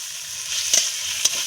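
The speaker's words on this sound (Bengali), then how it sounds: "তো আমি এটাকে সুন্দর করে এখন কষিয়ে নিই।" Spice paste for a banana flower curry sautéing in a pan: a steady soft sizzle with two brief stirring scrapes, close and without talk.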